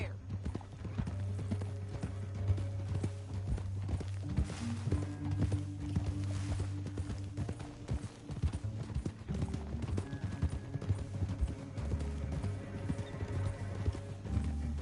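A horse in Red Dead Redemption 2 clip-clops at a steady, even walking pace through the whole stretch, close and clear, over a background of game music and ambience.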